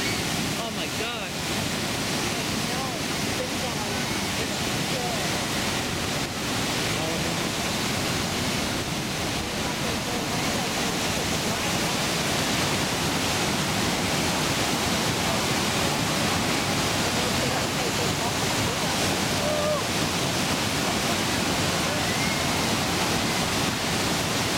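Bridal Veil Falls at Niagara roars steadily at close range, a dense, loud, unbroken rush of falling water with faint voices under it throughout.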